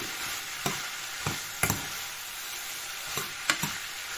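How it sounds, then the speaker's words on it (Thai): Pork with bell peppers stir-fried in a pan, a continuous close sizzle punctuated by several sharp scraping strokes of a spatula at irregular intervals, with no talk. "ก็ต้องเติมน้ำก็ต้องใส่น้ำแบบนี้จ้ะ ผัดให้แห้งเนี่แหละ"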